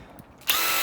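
A small handheld drill motor spinning an improvised air-conditioner fan at roughly half speed, quiet at first, then a bright steady whirring hum that kicks in suddenly halfway through and holds, with no talk.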